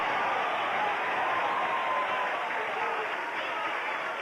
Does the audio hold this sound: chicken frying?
no